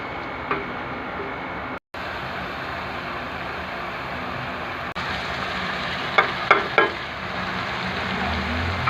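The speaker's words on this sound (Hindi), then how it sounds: "कच्चे पके प्याज में हमें कलेजी ऐड करनी है" Beef liver pieces frying with half-cooked onions in a pan, a continuous close sizzle broken by a brief dropout and a few sharp spoon clicks against the pan.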